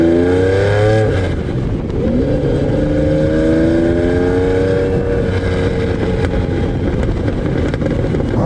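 A 1992 Lamborghini Diablo supercar engine revs and accelerates hard, loud and close, its roar climbing through gear changes in a continuous sustained pull with no talk.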